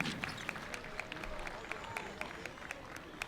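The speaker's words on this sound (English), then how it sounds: "Round of applause for the all-tournament team." A crowd in a gym at a 2019 high school basketball tournament final claps for the all-tournament team, scattered distinct claps over steady crowd murmur and talk in a large, echoing space.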